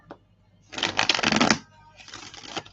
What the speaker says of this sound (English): Let's get you some cards.